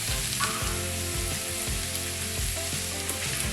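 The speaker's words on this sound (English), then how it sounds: "Then you add the potatoes and the carrot." Corned beef, potatoes and carrot frying together in fat in a pan for hash give a strong, close sizzle, with a few stirring thumps and scrapes breaking through the steady crackle.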